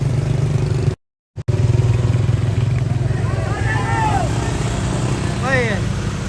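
A motorcycle engine runs steadily close by, a continuous mid-pitched drone with some clatter on an outdoor rural road, with a brief dropout early on and chirping birds heard faintly over it.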